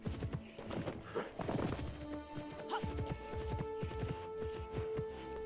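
Horse hooves thudding during a jump in the Pippa Funnell: Ranch Rescue video game, with rhythmic clip-clop beats, a whinny and tonal game music underneath; fairly close and lively, with a voice briefly heard.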